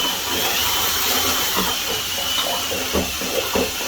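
A power drill mixes mortar for leveling a floor before a bathtub is installed, giving a loud, steady, close grinding whir that runs throughout with a few soft knocks near the end.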